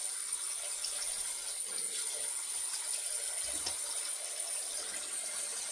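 Running tap water rinsing a slant razor during a shave, a steady soft hiss of flowing water throughout at low level, with no talk.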